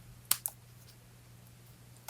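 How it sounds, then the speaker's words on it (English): Scissors snip a tiny piece of paper for a shaker card, giving two quick, close, sharp clicks near the start, then a faint hum and near silence. "Now we're going to cut that tiny little piece."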